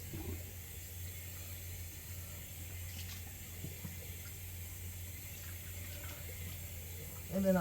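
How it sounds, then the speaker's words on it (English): Tap water runs steadily while rinsing off a green cleansing balm at a sink, a continuous even flow lasting throughout. "Just rinsing."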